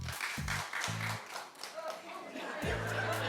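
A talk-show studio audience claps in scattered, moderate applause mixed with crowd chatter, sitting under near continuous talk from the hosts, with some low rhythmic thuds.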